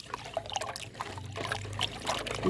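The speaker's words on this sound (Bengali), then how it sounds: "জলে ধুয়ে নিই" Freshly dug garden potatoes and carrots are rinsed in water, a close trickling and splashing with irregular sloshes throughout, no talking.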